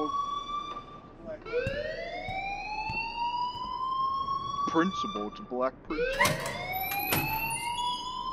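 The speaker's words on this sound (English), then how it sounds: "please turn off that alarm" Rising and falling electronic siren wails from the school fire alarm in the video game Life Is Strange, sounding steadily and loudly across the whole stretch while people talk over it.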